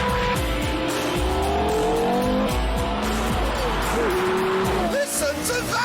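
A Porsche Carrera GT's 5.7-litre V10, originally designed for racing, revs and shifts hard in repeated rising sweeps, loud and continuous, with tire squeal and a voice faintly under the engine.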